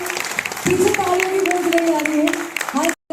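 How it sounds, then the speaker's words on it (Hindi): Audience applause fills an awards ceremony hall at the LTG Auditorium in New Delhi, a dense, steady clatter beneath a sustained tonal voice or music, ending abruptly with a brief silence. "एक बार तालियों की गूंज बजाएं, शोर आया चाहिए, come on everyone, जोरदार तालियां।"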